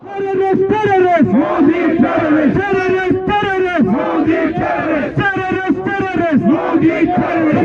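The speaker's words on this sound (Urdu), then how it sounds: "بھارتی وزیر اعظم نریندر مودی کے خلاف شدید نعرے بازی کی" Protesters in Victoria Square, Birmingham, a large crowd of men, women and children from the Pakistani and Kashmiri community, chant slogans against Indian Prime Minister Narendra Modi in loud, rhythmic call-and-response bursts that continue without a break.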